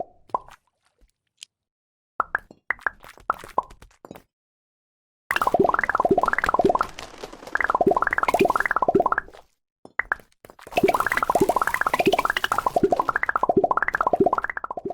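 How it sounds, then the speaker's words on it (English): Cute, bubbly plopping sound effects from a game, a few sparse blips at first, then rapid bursts of bouncy, rising and falling blobby pops. "the absolutely adorable sound effects and the way the buildings blobbed into existence"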